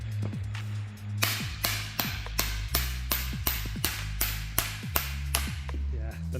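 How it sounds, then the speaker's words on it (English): A big mallet struck repeatedly against a Kia Ceed suspension arm with a worn bush, sharp metallic knocks roughly every half second over a low droning hum. "Get a big hammer actually."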